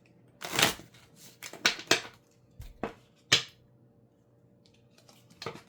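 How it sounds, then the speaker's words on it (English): A deck of cards is shuffled near the listener in a quiet room, heard as several short crisp riffling bursts separated by pauses, with soft card handling in between and no speech. "One more shuffle."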